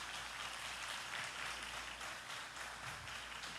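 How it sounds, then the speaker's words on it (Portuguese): Church congregation applauding visitors, a dense, steady wash of clapping from many hands heard at a distance, continuous throughout with no talking over it. "A igreja dê uma salva de palmas a essas pessoas."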